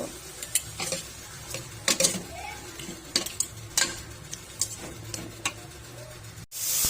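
Lomi noodles stirred in a pot with pepper seasoning, a string of sharp utensil scrapes and clinks at an irregular rhythm over a low simmering hiss, with a brief louder clatter near the end.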